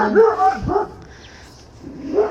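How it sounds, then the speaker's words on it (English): A pet dog in a suburban home garden barks a few times close by, with short yips and a whimpering tone, in a brief burst that fades before one more bark. "you hear my dog in the background"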